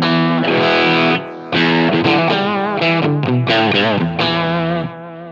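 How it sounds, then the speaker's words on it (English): An electric guitar played through a Line 6 Helix Valve Driver overdrive model, modeled on a Chandler tube driver, sets lightly distorted notes and chords ringing close and loud, with short pauses between phrases. "It's adding a tiny bit more distortion, but it's more acting as a tone shaper here"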